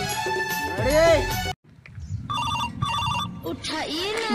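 A mobile phone rings with a bright, melodic electronic ringtone that plays loudly, cuts out briefly, then resumes with repeated tonal phrases.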